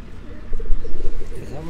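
A pigeon held in a fancier's hand at a pigeon-keepers' gathering in Sialkot gives low, soft coos against a murmur of background voices and crowd noise.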